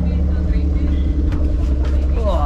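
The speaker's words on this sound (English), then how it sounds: "Orange tuk-tuk, guys, let's go." Orange tuk-tuk in the Philippines rumbles with a steady, close, loud motor drone, a faint rising rev near the end.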